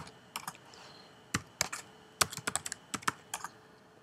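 Someone types a username at a login prompt on a computer keyboard while building a CentOS 5.6 web server, with irregular clicky keystrokes that come in small bursts, close and clear and with no speech.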